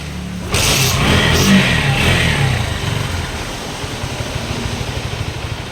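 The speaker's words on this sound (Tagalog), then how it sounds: "nung hindi pa siya nalinisan, namamatay siya kapag ina-accelerate natin siya" A Bajaj NS 150 motorcycle with a dirty carburetor revs up sharply, then the engine sputters and fades toward stalling, leaving an uneven low rumble; nearby and loud, without talk.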